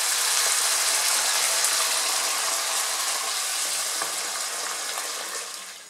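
Black beans frying in a pan with cumin for Cuban congrí, a dense, steady sizzle heard up close, easing slightly toward the end.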